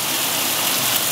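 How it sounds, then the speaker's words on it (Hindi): Steady rain pours down in the Kalam valley of Swat, a dense, even hiss of falling water with no pauses or other distinct sounds across the short stretch. "बारिश हो रही है, लगातार वक्फे से बारिश हो रही है"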